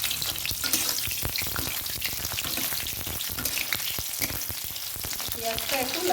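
Onions frying in hot oil in a heated kadai, giving a steady dense sizzle with crackling pops throughout, close and loud, with no talk over it.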